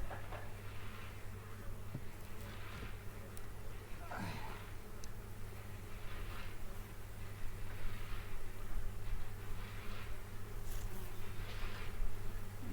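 Dense, continuous buzzing of many honeybees close by at a hive during autumn queen replacement, with a low hum underneath and occasional faint rustles.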